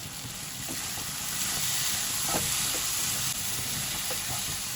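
Fried spice masala for Bengali ghugni sizzles in a pan, a dense steady hiss with a few faint scrapes of stirring, close and fairly loud throughout.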